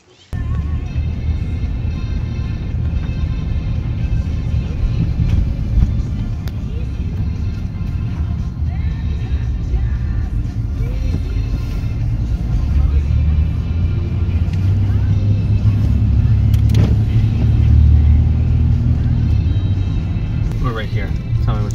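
From inside a moving car, a continuous low road and engine rumble holds steady the whole time, with voices talking faintly over it.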